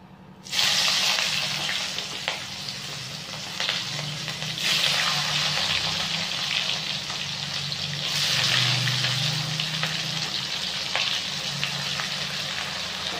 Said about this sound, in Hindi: तापर देवा ओनियन।